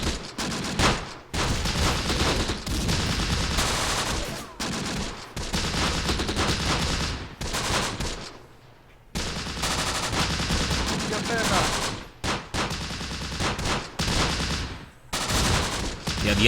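Sustained rifle and machine-gun fire from the Close Combat: The Bloody First war game, loud dense bursts and rattling volleys running almost continuously, with brief lulls, alone without talk.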